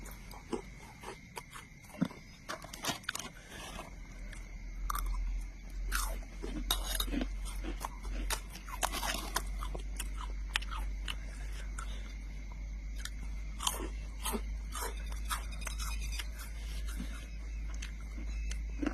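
Crunchy homemade bhel is chewed close up, with repeated crisp bites and crunches spread across the clip over a low steady rumble outdoors at a jungle rope house.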